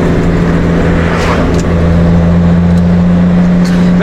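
Car engine pulling under load while driving, a steady loud low drone with a strong constant hum, running continuously throughout without pause.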